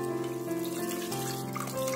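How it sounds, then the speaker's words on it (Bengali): Water poured into a cooking pot holding half a cup of dalia and half a cup of lentils, a steady splashing stream with shifting tones as the pot fills, close and alone. "এবার এর মধ্যে জল দিয়ে দেব।"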